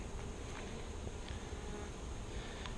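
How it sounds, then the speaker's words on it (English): Honeybees buzz around an open hive frame during a colony split, a steady close insect hum with faint rustling and occasional clicks. "lots of nurse bees,"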